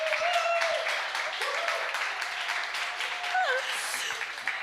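Applause from a conference audience at a data talk event, steady clapping under a tonal sweep and faint background voices, moderately loud and continuous throughout.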